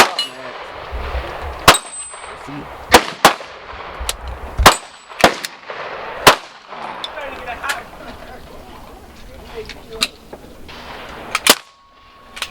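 Suppressed pistol that takes Glock magazines, fired at an outdoor range: a run of about a dozen sharp shots, each followed by a bright metallic ring from steel targets, spaced irregularly with brief voices between.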